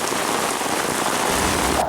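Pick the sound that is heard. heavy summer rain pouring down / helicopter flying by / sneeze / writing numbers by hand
heavy summer rain pouring down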